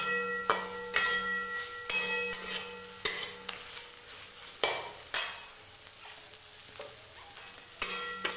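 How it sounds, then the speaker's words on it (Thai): Bitter gourd dry-roasting in a pan, with repeated sharp metallic scrapes and taps of a spatula stirring at a steady rhythm over a faint sizzle, close and fairly quiet. "จะเอามาผัดเอามาคั่วแห้งแบบนี้"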